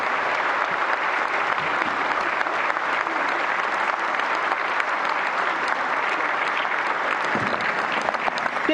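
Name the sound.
loud applause welcoming the President at awards ceremony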